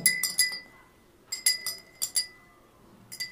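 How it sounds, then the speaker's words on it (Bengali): A spoon stirs saffron threads in a glass, giving clusters of sharp, bright clinks against the rim in quick bursts of two or three, separated by short quiet gaps, close and clear with no talking. "আমি নাড়তে থাকি"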